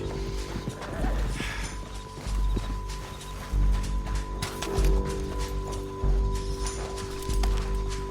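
Steady clip-clop of horse hooves with an occasional whinny in Red Dead Redemption 2, set against a constant electronic hum and layered game ambience; no talking.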